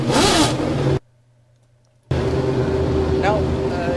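A sim racing game car's engine revs hard and loud, cutting out for about a second of near silence before the high whine returns steadily.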